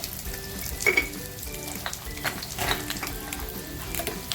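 Eggs fry in a pan for a spinach egg curry, a soft continuous sizzle with faint clinks and scrapes of stirring, steady and close throughout.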